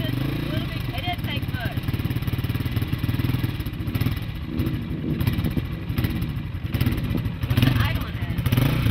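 A brand new dirt bike on a fresh tank of gas, its engine idling with a fast, steady putter close by while people talk over it.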